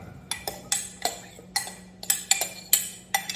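A spoon stirs a sugar mixture in a bowl, giving sharp, evenly spaced clinks and scrapes against the sides, close and clear over a low steady background hum.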